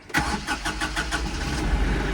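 Kioti NS4710 diesel tractor engine cranking with a rapid rhythmic starter chug, then catching and settling into a steady close idle.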